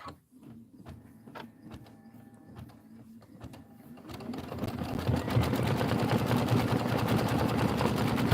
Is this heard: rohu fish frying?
no